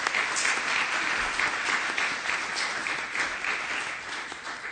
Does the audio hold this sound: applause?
yes